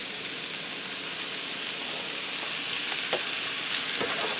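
Frozen broccoli and zucchini medley sizzles in a skillet, a steady dense crackle of frying with a few soft stirring clicks near the end, close and moderately quiet, no voices.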